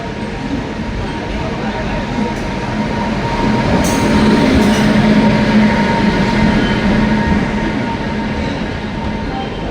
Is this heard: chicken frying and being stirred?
no